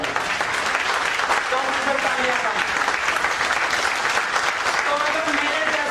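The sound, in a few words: audience applause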